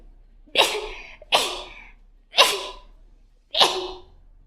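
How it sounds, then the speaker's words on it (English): Four sharp sneezes ring out close by, each a sudden loud burst followed by a quick fade, evenly spaced about a second apart. "I'm trying to sneeze"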